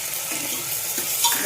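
Lentils fried and stirred in a cooking pan, a steady low sizzle with faint scraping of the stirring, close and continuous without talk.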